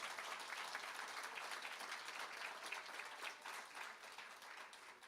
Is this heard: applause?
yes